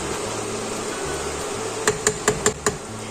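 A knife chops fresh coriander on a board, giving five quick, sharp knocks in an even rhythm over a steady background hum.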